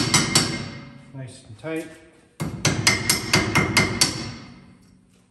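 Hammer taps on the bent-over cotter pin ends on a 1965 Ford disc brake conversion, a quick run of sharp metallic knocks near the mic, with someone speaking briefly between them.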